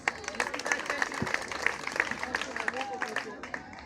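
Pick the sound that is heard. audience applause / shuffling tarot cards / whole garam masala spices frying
audience applause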